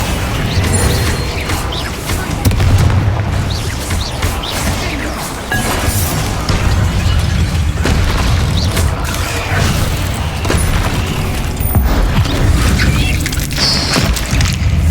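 Confringo blasting spell explosions in Hogwarts Legacy gameplay, a loud, dense barrage of booms, crashes and cracking bursts over a heavy rumbling low end and game music, continuous and busy throughout with no clear pause.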